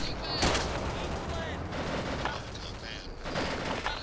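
Gunfire cracks over the player's head in the video game Arma 2: repeated sharp shots, some in quick clusters, ring out at moderate distance above a steady background rumble.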